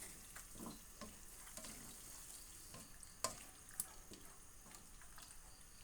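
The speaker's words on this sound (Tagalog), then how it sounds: "Haluin lang natin." Faint, low sizzling and soft wet stirring of squid cooking in a pan with oyster sauce, soy sauce and vinegar, with a couple of light clinks from the utensil.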